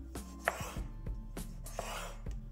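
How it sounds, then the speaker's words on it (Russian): A cucumber is sliced for sandwiches, a handful of soft knife cuts thudding onto a board at an uneven pace, close and quiet with no voices. "Огурец режем слайсом."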